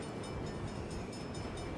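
Steady, loud rumble of a train rolling past in a video game police-response scene, a dense continuous low roar with faint high hiss and no clear pauses.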